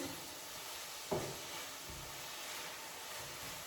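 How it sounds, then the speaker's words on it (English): Onions and peppers sautéing in a small pan, a steady broadband sizzle throughout with a sharp clack of a utensil near the start, close and fairly quiet. "the onions and the peppers until the onions are nice and translucent"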